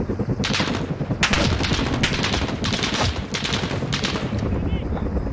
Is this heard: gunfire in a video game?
yes